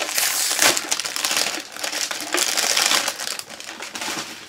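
A large bento box is opened up close, giving off a dense burst of crinkling, crackling and rustling noise, like packaging or wrapping being pulled apart.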